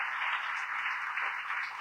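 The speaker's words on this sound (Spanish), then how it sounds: "le dé un fuerte aplauso de bienvenida" A church congregation applauds in welcome, a steady, even wash of clapping from many hands that holds at one level without breaks.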